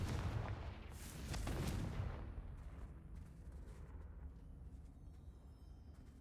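A Confringo blasting spell explodes in Hogwarts Legacy, a loud booming burst that swells and rumbles before fading into quieter crackles and faint debris.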